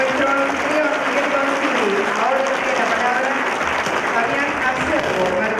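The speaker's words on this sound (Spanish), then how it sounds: "Este es el aplauso a nuestro anfitrión" A conference audience at a real estate professionals' congress opening in Mar del Plata applauds the host, a broad continuous wash of clapping with voices mixed in.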